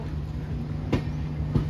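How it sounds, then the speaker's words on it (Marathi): A train rumbles steadily nearby with a low drone and two sharp rail clacks spaced about half a second apart. "आता ही ट्रेन इली"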